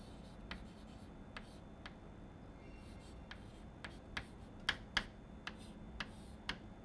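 Writing on a surface during a physics lecture on tunneling: faint, scattered taps and scratches at an irregular pace, quiet and close, with no talk.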